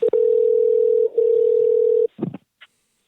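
A telephone line gives a loud steady dial tone for about two seconds, with a brief break partway through, then cuts off into a short burst of dialing and clicking before falling quiet.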